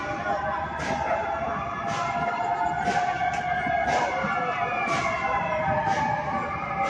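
A wailing fire truck siren rises and falls repeatedly, loud and continuous, with a rumbling engine underneath, at a fire in Tondo, Manila.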